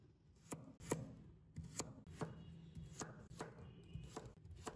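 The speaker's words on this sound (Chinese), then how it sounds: "最后再切成胡萝卜丁。" A knife dices a carrot into small cubes on a cutting board, giving about a dozen crisp, fairly quiet chops in an uneven rhythm, each a short sharp knock.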